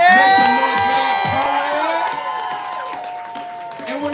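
Audience at a poetry slam cheering, whooping and clapping for a poet after high scores are read out, a loud, dense crowd roar that eases slightly but keeps going, with shouted voices mixed in.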